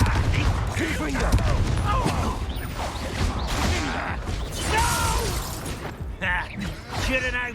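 A Confringo explosive spell is cast during a Hogwarts Legacy duel. It sounds like a dense, continuous wash of magical combat effects, with crashing, shattering and clattering bursts layered throughout and no clear pause.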